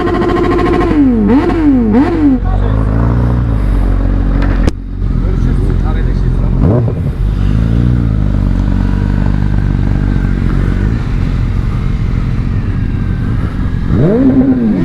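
An R25 motorcycle's engine runs close and loud as riders set off for the Adana motorcycle festival, with warbling revs early on, then a steady idle and a brief dip midway.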